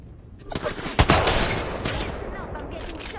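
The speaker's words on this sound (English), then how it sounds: "No, I'm getting shot at." Rapid gunfire crackles through an Apex Legends firefight, several sharp shots and bursts in quick succession with a heavy impact near the middle, loud and close, with a voice briefly heard.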